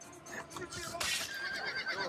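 A horse whinnies loudly over a busy Assassin's Creed Brotherhood game soundscape, with a rough, shrill neigh rising and trailing off amid background clatter.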